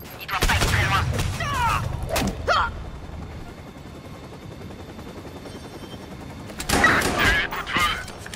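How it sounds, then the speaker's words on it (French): Gunfire rings out in the video game Watch Dogs 2, with sharp bursts of shots near the start, a short quiet stretch with low background hum, then another burst near the end. "Coup de feu."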